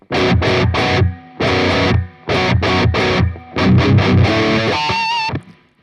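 Distorted electric guitar plays the main riff in standard tuning, loud heavy chugging bursts in four phrases separated by short gaps, ending on a ringing chord, with no talking.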